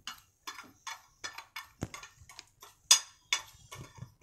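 A spoon scrapes and clinks against a steel bowl while pickle masala with turmeric is mixed for a stuffed raw mango pickle, giving a steady run of short, close scraping strokes about twice a second.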